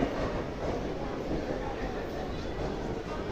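Naini Janshatabdi Express train departing a station after a two-minute halt, a steady broadband rumble of rolling rail cars throughout, with a voice talking over it.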